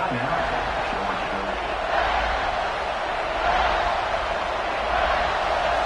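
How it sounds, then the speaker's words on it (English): College football stadium crowd at a Nebraska versus Georgia game, a loud sustained roar of thousands of fans that swells in waves across the stretch, with faint talk at the start. "this crowd is at fever pitch"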